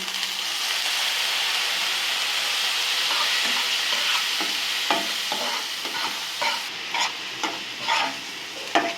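Spice paste of coriander powder, chili powder and salt with a splash of water sizzles steadily in a pan for baim fish curry, with scattered scraping stir strokes growing more distinct toward the end; no talk.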